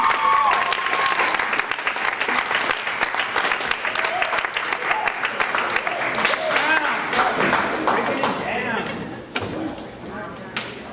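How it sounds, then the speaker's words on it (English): An audience at an event bursts into enthusiastic clapping, loud and dense with crisp individual claps throughout, fading toward the end as voices and cheering take over. "That was like the best clap you guys have given all day"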